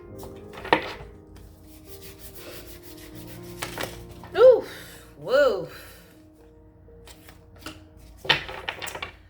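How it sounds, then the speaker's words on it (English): Tarot cards being shuffled and rubbed together in several short bursts, close up, with quiet gaps between them and a voice speaking in between. "Shuffle them again."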